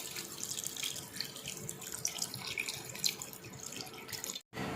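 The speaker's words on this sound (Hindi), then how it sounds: "अभी इसमें पानी डालेंगे हम" A steady stream of water pours into a pot of fatty mutton being cooked for Peshawari rosh, a continuous splashing hiss that cuts off abruptly near the end.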